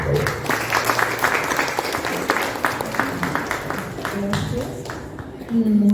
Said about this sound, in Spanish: Un aplauso para Marina Díaz,